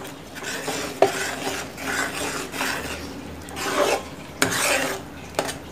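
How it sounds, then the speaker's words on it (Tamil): A spoon stirs coriander leaves into thick, simmering dal makhani in a pot, making repeated rasping, scraping strokes in uneven bursts. Occasional sharp clinks of metal against the pot rim cut through. "தனியா தழையை நல்லா மிக்ஸ் பண்ணிக்கிடலாம்"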